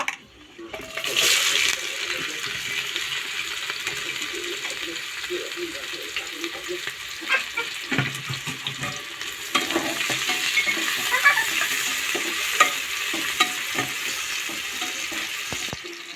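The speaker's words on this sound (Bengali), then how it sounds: "পেঁয়াজটা হালকা করে একটু নাড়াচাড়া করে নিয়েছি।" Chopped onions fry in oil with whole garam masala and bay leaves for a pressure-cooker biryani, a continuous close sizzle broken by scraping stirs and occasional clinks of the spoon against the pot.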